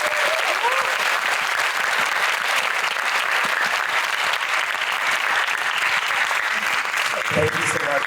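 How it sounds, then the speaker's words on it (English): Sustained applause from an audience at a presentation event fills the room evenly and steadily, with a voice briefly heard near the end. "Give them a round of applause"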